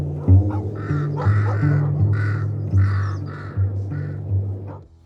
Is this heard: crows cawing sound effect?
yes